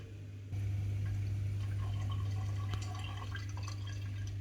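An Electrolux ESF5206LIW dishwasher starts up after a quiet pause, its steady low motor hum joined by soft water filling and trickling, with no talk.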